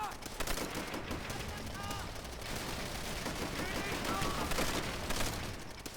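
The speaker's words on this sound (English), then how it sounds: "where's this automatic Japanese gunner? Again, he's shooting into cover" Automatic gunfire from a Japanese machine gunner in the World War II shooter Call of Duty: World at War, rattling in dense bursts amid a busy battlefield din for several seconds.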